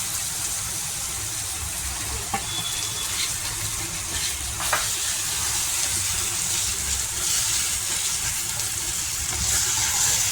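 Eggplant pieces go into a pan of spice paste already fried in oil, giving a loud, steady sizzle with a few small knocks and scrapes and no voices.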